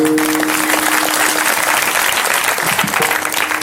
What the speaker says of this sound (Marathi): आता वाजवा टाळी